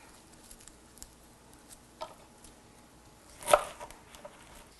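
A single crisp snap as the bottom is broken off an ear of fresh corn, loud and close near the middle, set among a few faint earlier clicks of husk handling.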